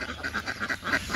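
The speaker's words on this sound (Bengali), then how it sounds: "আমাদের হাঁস বাড়িতে এসে পড়তেছে" Ducks quack in a steady run of short, bright calls as they come home toward the house, fairly close and with no talk over them.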